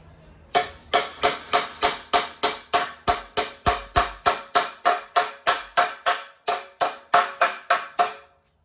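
A hammer strikes a steel trunk floor flange in a long, even run of about twenty loud, ringing metal blows, close up, with no talk.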